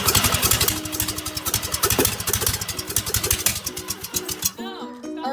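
Mazda RX-7 engine cranking and catching, then settling into a rough, pulsing idle with rapid clattery firing, heard close and loud while a person speaks over it.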